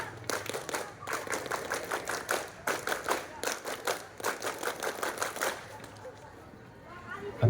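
A rhythmic Pramuka scout clap performed by a group at a Super Camp opening, with sharp clusters of clapping in repeated patterns that taper off near the end.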